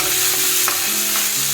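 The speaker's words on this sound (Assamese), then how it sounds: "ধুনীয়াকৈ ভাজি আছোঁ ৰঙচুৱা হোৱালৈকে ভাজি থাকিম" Pieces of tuna fish fry steadily in hot oil in a pan, a loud, continuous sizzle with a few soft stirring scrapes and no talking.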